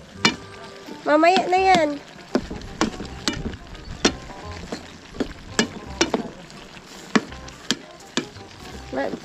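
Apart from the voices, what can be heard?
eggplant frying and sizzling in a pan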